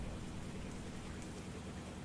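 Steady rain hisses evenly throughout a storm in the storm-chasing video game Twisted, a constant wash of falling drops with no voices.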